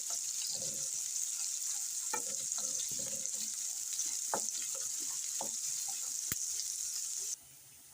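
Chopped onion fries in hot oil in a pan with fennel, cumin and curry leaves, giving a steady close sizzle broken by repeated clinks and scrapes of stirring.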